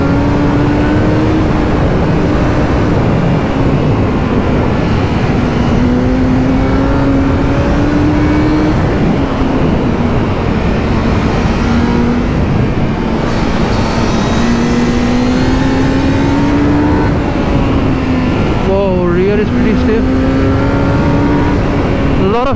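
Kawasaki Z900 motorcycle accelerating hard through corners, engine note climbing and dipping continuously as revs rise and fall between gears, loud and close throughout, with wind roar around it.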